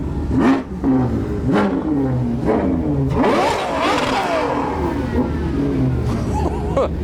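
A supercar with a 6.5 litre V12 and a long titanium Novatec exhaust revs hard several times in quick bursts, then holds a longer howling rise, loud and close at a crowded show.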